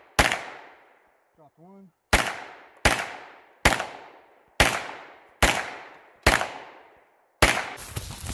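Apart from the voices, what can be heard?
gunshots from a Stribog SP9A1 at wood target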